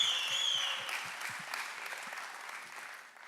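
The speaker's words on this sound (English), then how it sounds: "everyone, a round of applause for Holly" Audience applause for Holly on stage at a startup demo day, steady crowd clapping that slowly fades, with a high electronic tone briefly at the start.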